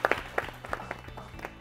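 Scattered, sparse handclaps from a small group, a few sharp claps then thinning out, moderately close.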